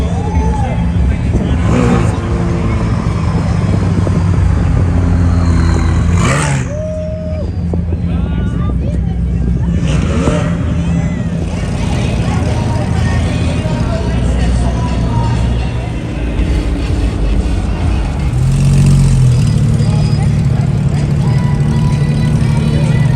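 A Ford GT supercar rolls past at a busy car meet, its engine a steady low rumble amid constant crowd babble and nearby chatter, swelling briefly as it passes close.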